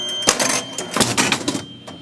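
A Gottlieb Card Whiz electromechanical pinball machine runs after a burned relay repair, giving a quick burst of sharp mechanical clacks and chattering relay clicks close by, settling toward the end.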